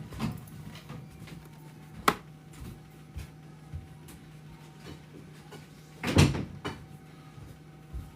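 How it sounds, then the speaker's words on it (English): A beauty room door is shut indoors, with a single loud thud-and-rattle standing out over a quiet room hum, preceded by a few fainter knocks and clicks. "Let me close my beauty room door."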